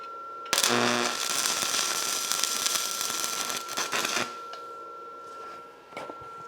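Arc welding practice strikes on metal for a DIY hydraulic project: a loud, dense crackling buzz starts abruptly, holds steady for several seconds, then cuts out, followed by a brief fainter sputter.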